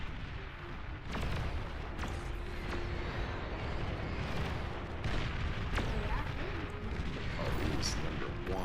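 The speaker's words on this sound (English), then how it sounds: "Oh, you got some long-range cannon or something." Long-range cannon fire in the strategy game Beyond All Reason, several sharp booming shots at irregular intervals over a constant rumbling battle bed, with a faint tone running underneath.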